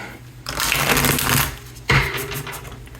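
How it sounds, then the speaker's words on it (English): A tarot deck is shuffled up close in two riffling bursts separated by a short pause, with dense papery flutter and snapping card edges, and no voice. "A little shuffle here."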